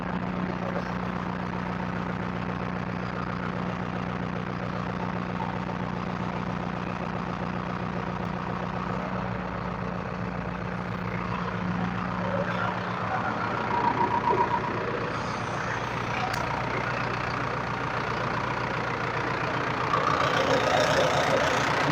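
The engine of a Preet 4949 backhoe loader idles steadily close by, a constant mid-low diesel rumble with a droning hum, growing slightly busier and louder near the end.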